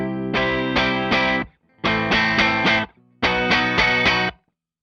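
Three bursts of distorted electric guitar chords through a Blackstar Series One 104 6L6 amplifier with a crunchy, gritty tone, each strummed phrase ending abruptly in silence.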